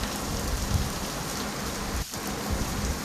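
Heavy rain falls in Lahore, flooding a lawn, a dense, steady hiss of downpour on surfaces close by, continuous and even throughout with no voices.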